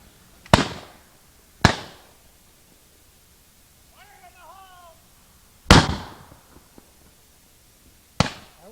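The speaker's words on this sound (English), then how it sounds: "a good cannon, and believe me, it works." Several loud, sharp booms of a cannon firing at Crab Island and Culver Hill, spaced a few seconds apart, each echoing briefly, with a short bird-like chirp between them.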